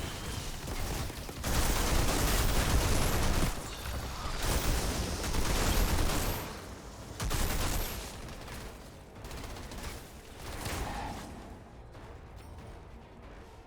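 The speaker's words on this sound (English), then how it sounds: "So let's cool them off with a little cryo turret." Sustained automatic turret fire and impacts from a cryo turret in the shooter game Outriders, loud dense bursts in waves with brief lulls, carrying on for most of the stretch before easing off at the end.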